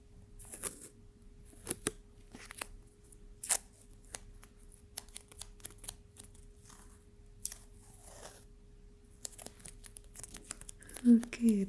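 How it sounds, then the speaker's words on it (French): Short sticky tearing and crackling bursts as a small piece of adhesive tape is peeled from a roll, scattered irregularly over quiet background, with a voice speaking briefly in French. "Un scotch, c'était un petit scotch."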